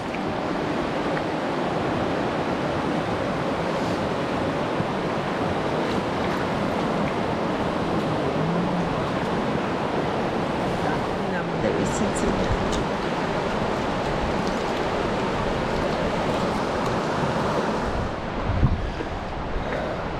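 The North Umpqua River rushes steadily nearby, a broad continuous wash of flowing water with a slight breezy texture and a brief bump near the end.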